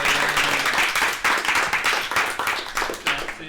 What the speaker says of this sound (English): one last round of applause for them